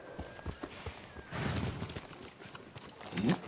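Horse hooves in the Ghost of Tsushima video game: a run of clip-clopping hoofbeats at a steady gallop, with a louder thudding burst midway and another near the end, some faint voice-like sounds mixed in.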